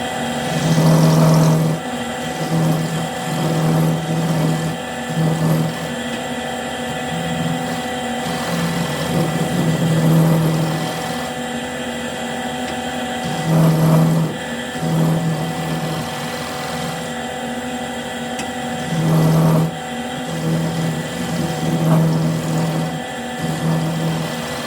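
A wood lathe turns a small elm bowl mounted slightly off-true on a screw chuck, giving a steady motor hum with a pulsing vibration that swells and fades in recurring bursts, close and fairly loud.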